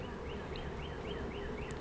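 Honey bees hum softly around a spring hive split, a faint steady drone with light wavering tones from individual bees passing near.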